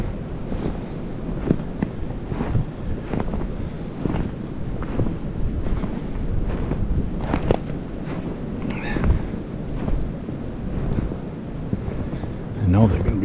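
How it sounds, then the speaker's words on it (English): Wind blows outdoors on a snowy mountain during a buck hunt, a steady rushing gust buffeting the microphone close-up throughout, with occasional faint rustles and soft speech underneath. "The wind's blowing at them."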